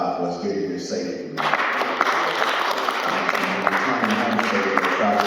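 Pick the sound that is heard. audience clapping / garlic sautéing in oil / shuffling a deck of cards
audience clapping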